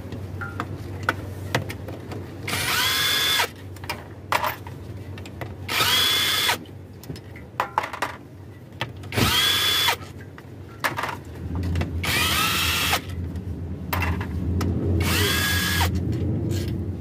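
An impact wrench removes engine bolts from a Toyota Camry during a balancer shaft replacement, firing in loud rattling bursts of a second or so separated by short pauses, over a constant low mechanical drone.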